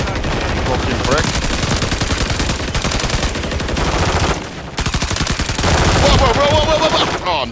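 Rapid automatic gunfire in Call of Duty, loud and continuous with dense bursts and a brief pause midway, as a player shouts over the shooting.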